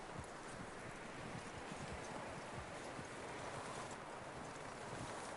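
Horse hooves in Red Dead Redemption: steady, rhythmic clip-clop of a horse moving along, quiet and even, under wind and outdoor noise with no talking.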